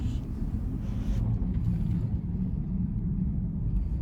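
A car interior with no music playing: a steady low engine and road rumble, constant and moderately quiet, with a faint higher hiss fading out after the first second.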